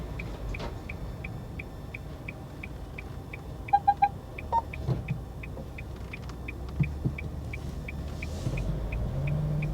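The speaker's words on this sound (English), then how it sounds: "That lorry got so close that it set off our parking sensors." Car parking sensors beep in a steady, evenly spaced series inside a car on a driving test as a lorry passes close, with a short faster burst partway through over low road rumble.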